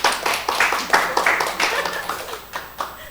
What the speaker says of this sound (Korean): 이럴 때는 박수가 우렁차게 나와야 되는데